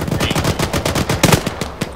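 Rapid bursts of gunfire from the Arma 3 video game during a zombie-fighting session in a house, dense overlapping machine-gun shots cracking in quick succession, loud and close, with no talk.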